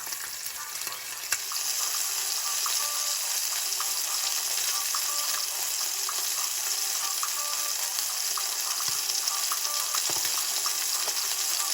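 White fish fillets sizzle steadily in a hot pan, a loud continuous broadband frying hiss with small crackles and pops throughout, no voices.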